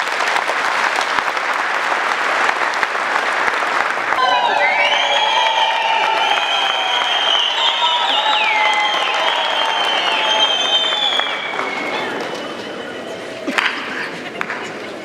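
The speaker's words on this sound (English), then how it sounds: "this certainly deserves a big applause from all of us" Presentation audience at an ICT facility giving a big round of applause, loud sustained clapping with cheers, whoops and shouting voices rising over it, tapering off near the end.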